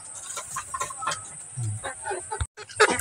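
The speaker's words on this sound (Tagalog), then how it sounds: "Ito na yung mga manok ko." Hungry backyard chickens clucking close by in quick, irregular bursts while being fed.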